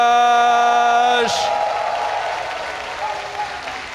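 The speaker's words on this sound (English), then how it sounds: "give a big cheer for KT Roasters Flash." An audience claps and cheers at a HomeStory Cup X StarCraft II esports semifinal. A held musical tone cuts off, then broad applause takes over and slowly fades.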